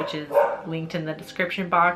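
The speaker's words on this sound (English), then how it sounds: "Excuse my dogs." Dogs bark in short repeated bursts over a talking voice, the barks mixed in with the speech throughout and fairly close.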